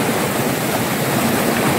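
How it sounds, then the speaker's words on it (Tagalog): Strong river current rushing and churning, a dense continuous wash of flowing water heard up close and loud without any voices. "Delikado pag matangay ka ng tubig, agos tubig dyan"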